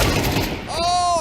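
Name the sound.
flashbang grenade going off in a video game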